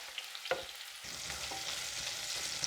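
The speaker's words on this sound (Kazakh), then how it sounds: "Тұрған майымызға сәбізді салып қуырып аламыз." Thin-sliced carrots fry in hot oil in a pan with a steady, close sizzle, broken early by a couple of stirring clinks and scrapes.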